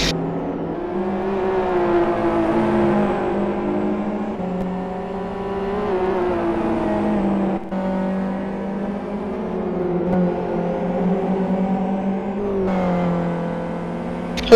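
Super GT race cars roar around a circuit during a main race, engines droning steadily with rising and falling pitch as they accelerate and shift, heard continuously from a moderate distance.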